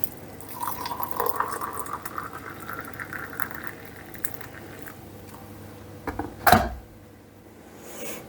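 Water poured from a kettle into a mug for a cup of tea at home, a soft continuous trickling and splashing that runs for several seconds, with a brief louder clatter near the end.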